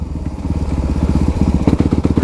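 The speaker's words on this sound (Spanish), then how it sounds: "La moto se quiere apagar porque no tiene el poder que necesita." A motorcycle engine bogs and chugs in too high a gear, close and loud, its uneven rapid pulsing loping as though about to stall.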